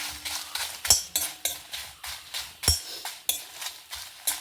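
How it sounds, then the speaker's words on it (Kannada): Dry coriander seeds, pepper and about a dozen dried red chillies roasted in a pan, stirred with a spoon in steady rhythmic scrapes and rattles, with a few sharper clinks against the metal and no voices. "ಫಸ್ಟ್ ನಾವು ಮೆಣಸು ಮತ್ತು ಕೊತ್ತಂಬರಿ ಡ್ರೈ ರೋಸ್ಟ್ ಮಾಡ್ಕೊಂತೆ"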